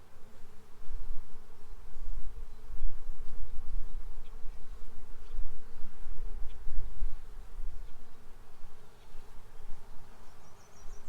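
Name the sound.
honeybees buzzing in an opened hive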